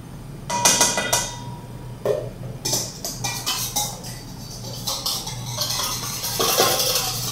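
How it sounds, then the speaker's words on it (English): Quick metallic clinks and taps of a whisk against a bowl while a sauce with pepper flakes is whisked, arriving in short irregular bursts close by. "Whisk that up."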